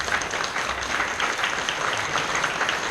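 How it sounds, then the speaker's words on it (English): Audience clapping at a Pixel Heaven 2022 convention Q&A with game designer Jordan Mechner, steady dense applause throughout, fairly loud and with no talking over it. "Just a little applause, please."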